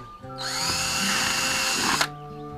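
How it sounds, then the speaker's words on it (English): A power drill whines steadily for about a second and a half, boring a drainage hole into the bottom of a dried gourd being made into a birdhouse, close and loud with no talk. "Take a drill, about 4 to 5 holes."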